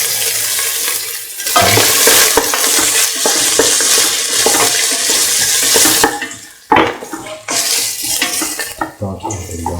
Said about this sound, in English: Toss the onions for a golden brown.